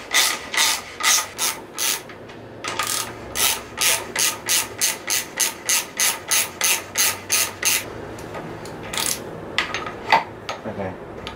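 A ratchet loosening the axle on a Honda CRF150F dirt bike gives loud, close bursts of rapid clicking, repeated in a steady rhythm of short strokes with brief pauses between them.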